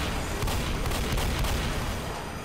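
Gunfire in the zombie game Left 4 Dead, heard as dense, rapid shots fired from a bridge, a continuous rattling barrage with sharp repeated bursts and no talking.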